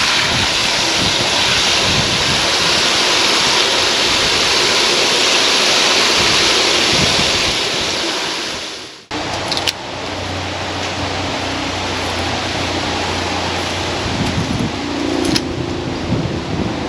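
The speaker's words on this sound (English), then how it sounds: "I'm going to use a bucket and put some water in it." Water pours into a bucket in a greenhouse with a loud, steady rushing splash that cuts out briefly about halfway through, then resumes at a slightly lower level.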